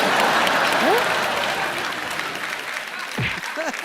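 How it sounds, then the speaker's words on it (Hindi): A studio audience on a comedy show bursts into loud, steady applause that fills the moment, with a few brief vocal sounds rising over the clapping near the end. "एक बार जोरदार तालियां हो जाए"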